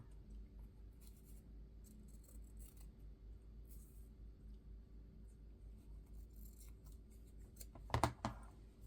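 Scissors snip through fabric in soft, repeated close cuts against a low steady hum, ending in a louder crisp snip.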